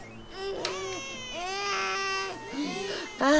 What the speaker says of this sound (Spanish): el estrepitoso ruido provocado por el llanto de dos bebés